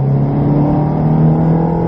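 A Ferrari engine at Silverstone accelerates hard on track, a loud, close, steady roar with a strong low drone throughout and no voices.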